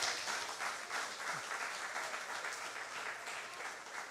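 Congregation clapping in a church service, a soft, distant wash of steady applause with a faint low hum beneath and no voices.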